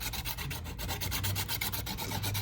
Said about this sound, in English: I take a piece of sandpaper, usually like a 400 grit sandpaper or something like that, and then I will rough that edge up